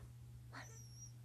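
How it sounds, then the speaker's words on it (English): A single short, soft puppy whimper rises briefly over a steady low hum, followed by a faint thin whine that fades out. "It's a puppy on my foot."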